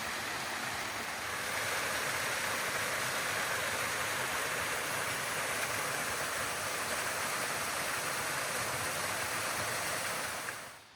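Third Falls waterfall at Morialta in Adelaide, a steady, dense rush of falling water heard fairly close, continuous and broadband without voices, swelling in after the first second and holding evenly throughout.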